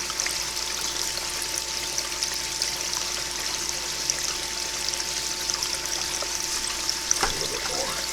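Water trickles and pours steadily through the screen of a gold-mining sluice, giving an even, continuous wash of sound with no voices over it.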